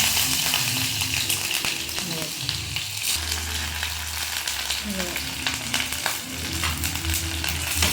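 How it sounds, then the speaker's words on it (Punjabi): Chopped onions hitting hot oil for vegetable noodles, a loud close sizzle with stirring clatter and low rumbling underneath, dense and continuous, the hiss swelling partway through as more goes into the pan. "ਤੇਲ ਗਰਮ ਹੋ ਗਿਆ ਆ ਤੇ ਪਿਆਜ਼ ਪਾਵਾਂਗੇ ਪਹਿਲਾਂ"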